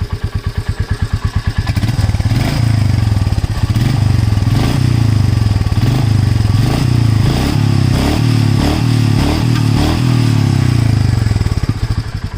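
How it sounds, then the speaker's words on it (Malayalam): Royal Enfield Meteor 350 BS6 motorcycle exhaust, a steady loud thumping single-cylinder beat that builds after a quieter start and holds close by, with no talk over it. "ഇനി നമുക്കിതിൻ്റെ എക്സോസ്റ്റ് നോട്ടൊന്ന് കേട്ട് നോക്കാം."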